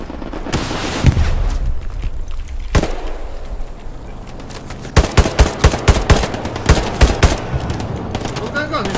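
Gunfire in the World War II shooter game Hell Let Loose, scattered shots at first, then a rapid string of loud, sharp cracks like machine-gun bursts, with people talking throughout.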